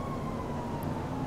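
A police car siren in the GTA video game, a steady loud wail spread across the whole stretch, with no talk over it.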